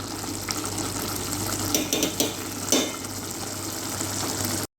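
Tomato rice masala sautéing in oil in a pan, a steady close sizzle with scattered stirring scrapes, continuous and fairly loud throughout with no talk.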